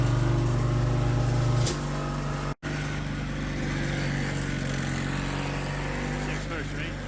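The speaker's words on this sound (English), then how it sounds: "we'll do a little snow blowing" A snow blower engine running close by, a steady droning hum that shifts pitch and load partway through, with a brief cut-out before continuing.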